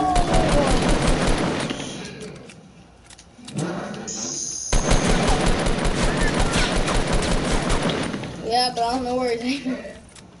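Rapid bursts of automatic gunfire from a Fortnite squad match rattle in quick volleys, mixed with game effects and overlapping excited voices of players talking throughout.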